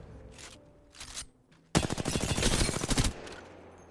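Loud, rapid automatic fire at dummies in an Apex Legends firing range: two short bursts, then a sustained stream of shots about a second and a half long, with no talk.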